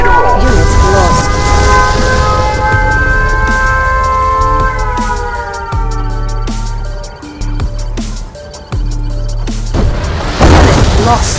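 A nuclear missile strikes in the strategy game Command & Conquer Red Alert: a sustained, wavering alarm-like tone gives way to a series of deep, rumbling booms and crackling blasts, loud and alone.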